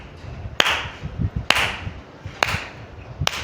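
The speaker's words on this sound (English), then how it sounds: "Follow the exhale, match it with the clap." Slow, evenly spaced single hand claps during a tantric hatha yoga breathing exercise, four sharp, close claps about a second apart with soft breathy exhales between them.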